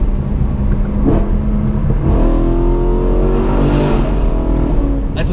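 BMW M3 engine revving hard, loud and close, its rising and falling harmonic whine climbing through the revs with no talk over it.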